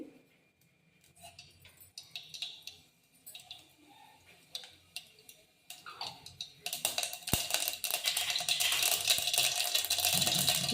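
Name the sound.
mustard seeds spluttering in hot oil in pan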